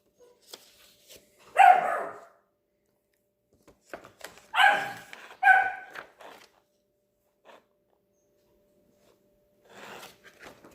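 A foster puppy lets out a few scattered barks and yips, close and fairly loud. Quiet gaps separate the short bursts.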